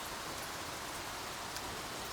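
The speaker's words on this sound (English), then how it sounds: "It's raining super hard" Heavy rain falling hard, a dense steady hiss of drops with no pauses, fairly soft and even across the short stretch.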